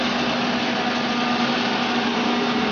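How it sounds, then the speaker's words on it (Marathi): A kitchen mixer grinder whirs steadily as it grinds roasted cardamom into powder, a loud, constant motor whine with an even, unbroken hum and no voices. "ही वेलची भाजून ती मिक्सरला लावून घेणार म्हणजे त्याची पावडर करूची आहे"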